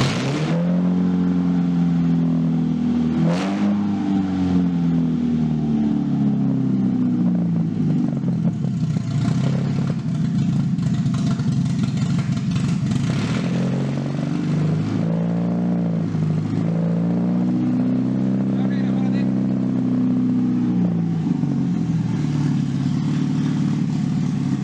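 Toyota Starlet fitted with a 2NZ engine cranks, starts and runs loudly, with several rising and falling revs and some mechanical clatter close by, no talking.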